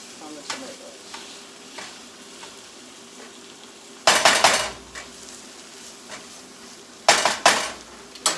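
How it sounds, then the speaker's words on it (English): A utensil scrapes and presses tomatoes in a pan of sizzling shrimp curry, with a quiet simmer and light taps, then two loud bursts of metallic scraping near the pan. "I'm just gonna like push down on the tomatoes a little bit because I want some of the juices from the tomatoes."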